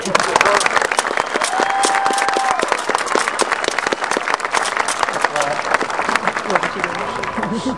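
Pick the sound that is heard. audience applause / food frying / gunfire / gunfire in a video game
audience applause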